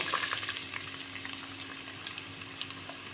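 Onion and salt sautéing in hot oil with cloves, cardamom and cinnamon for a vegetable kurma, a steady close sizzle with light scraping stirs throughout, no voices.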